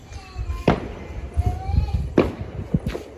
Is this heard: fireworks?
yes